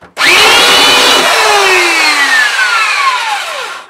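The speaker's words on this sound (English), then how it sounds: "the main thing is to let the sander do the work and it'll pull itself on" An electric sander strips an old cedar chest, running loud and close almost from the start as a continuous whirring roar with shifting whining tones, easing slightly toward the end.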